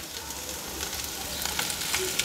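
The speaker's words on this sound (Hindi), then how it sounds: "प्याज डाल दिए मैंने, प्याज को हम सॉटे कर लेंगे" Onions sautéing in a pan give a short, steady sizzle with light crackles and hiss throughout.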